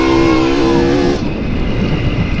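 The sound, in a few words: motorcycle passing on road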